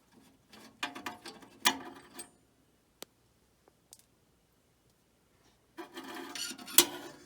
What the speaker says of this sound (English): We'll undo that little screw right there.